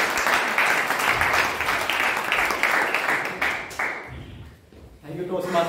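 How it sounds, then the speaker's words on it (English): Audience applause at a Toastmasters speech contest meeting, a dense crowd of clapping hands sustained for about four seconds, then thinning and fading as a voice begins speaking at the end. "let us invite with huge round of applause"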